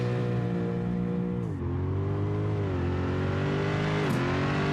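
A Mopar race car of up to 1,000 horsepower revs hard, its engine a loud, rich harmonic roar with pitch dips and climbs as the throttle changes, close and alone.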